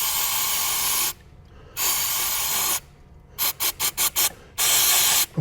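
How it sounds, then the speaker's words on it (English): Loud aerosol brake cleaner spray hisses in long bursts, then several quick short squirts, followed by another long spray, close by, during Lincoln Mark VII air suspension repair. "I'm going to spray a little brake clean over there"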